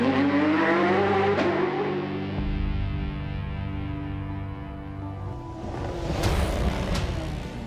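A Porsche rally car driven by Romain Dumas on a Lyon-Charbonnières rally stage, its engine roaring loud and close as it revs and then shifts, the note dropping and swelling again as the car passes.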